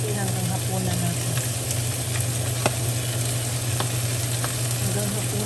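Patola (sponge gourd) stir-frying in a pan with brisket, a steady, dense sizzle with faint scattered pops, close and continuous throughout.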